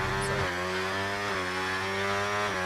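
A loud, continuous Formula 1 car engine drone in a racing video game at Imola, with steady harmonics, dipping briefly as the throttle lifts and then holding through a coast.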